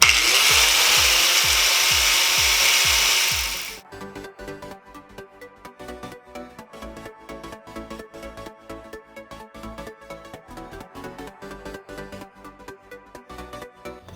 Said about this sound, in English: we're actually gonna go with a pretty thin grinding wheel instead of the cutoff wheel